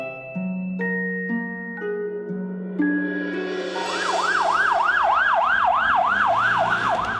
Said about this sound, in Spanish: La sirena de una ambulancia se escucha y las personas se alarman.